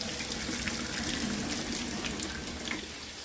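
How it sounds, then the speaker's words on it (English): Hot water from boiled potatoes pours out through a strainer, a steady close gushing and splashing that runs continuously for a few seconds without talk. "So I use this to drain them"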